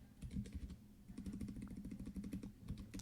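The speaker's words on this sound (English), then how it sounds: "Now I can type anniversary." Typing on a computer keyboard while making a custom letter banner: a quick, close run of soft key clicks in irregular bursts, briefly pausing before resuming at a steady, fairly quiet pace.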